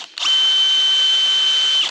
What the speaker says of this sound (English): And we can drill our holes